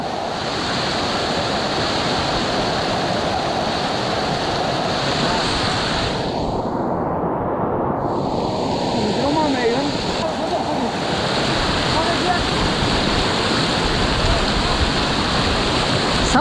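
Loud rushing river water swollen by heavy rain in the Mandani Valley, Uttarakhand, a steady broadband roar that stays close and constant throughout, with wind buffeting the microphone and no clear speech.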